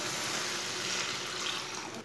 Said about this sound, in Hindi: 2 गिलास मैंने पानी डाल लिया है।